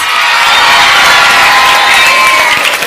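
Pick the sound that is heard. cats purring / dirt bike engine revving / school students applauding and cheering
school students applauding and cheering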